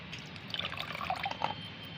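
Organic liquid fertilizer mixed with plain water being strained, giving a soft, steady trickle and gentle dripping of liquid close by, with no talking.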